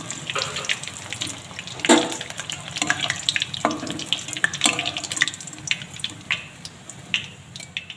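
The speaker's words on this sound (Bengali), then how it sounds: "এবার তেল থেকে সব কোপ্তাগুলো তুলে নেব।" Banana flower koftas frying in hot oil, a continuous bubbling sizzle with intermittent scraping and stirring clatters from a spoon, close-up and moderately loud, without speech.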